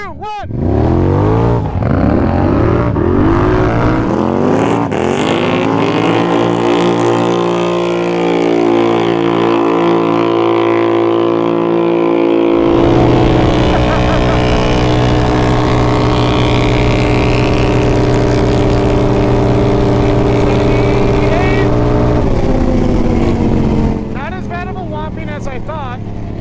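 A Polaris Scrambler XP1000S and a Can-Am Renegade 1000 ATV, one fitted with slip-on exhausts, race off together, engines revving hard and rising in pitch through the gears, loud and close, before easing off near the end.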